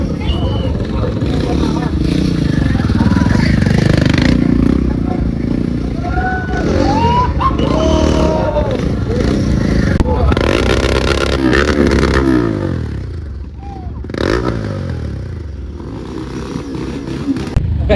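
Motorcycles at a stunt show at the Goa Motoverse event, engines revving and clattering close by while a crowd babbles and people talk throughout.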